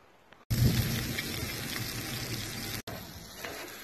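Brats and burgers sizzling on a disc griddle at a wall tent camp, a steady loud frying hiss that cuts in abruptly, breaks off briefly, then resumes.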